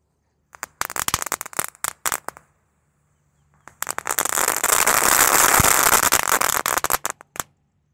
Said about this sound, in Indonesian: ada mercon telur dino pratek 1 pak sekaligus. Langsung kita nyalakan